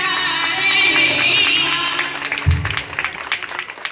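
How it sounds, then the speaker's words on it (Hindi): Applause at a school Republic Day celebration, a brief burst of clapping from the gathered audience that fades within a few seconds. "तालियां।"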